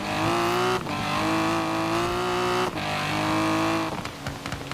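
A Morgan Three Wheeler engine in Forza Horizon 4 drones and revs in long sustained bursts, loud and steady with brief shifts between gears, no talking.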